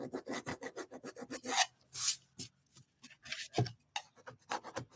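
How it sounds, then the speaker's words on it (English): Steady rhythmic scraping and rasping on a bee craft piece, a fast run of short strokes that breaks into a few louder, longer scrapes, close and clear with no talking. "A lot of scraping, guys."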